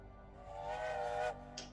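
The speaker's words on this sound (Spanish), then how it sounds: "Sonido ahí de silbato" Steam locomotive whistle from the railway simulation game Railway Empire, a single sustained tone lasting about a second, moderately loud over a soft background hum.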